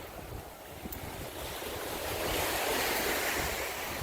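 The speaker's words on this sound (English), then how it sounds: "So the sea's a bit choppy in the bay today." Choppy sea waves wash through a bay at Arroyo Barril, Samaná, in the Dominican Republic, a continuous surf rush mixed with wind noise that swells louder toward the end, with no one talking.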